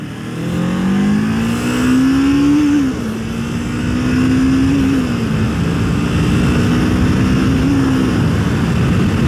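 A motorcycle rides along an open road, its engine a loud, close, continuous drone whose pitch climbs and dips several times as the bike rolls and speeds up, under steady wind rush and with no speech.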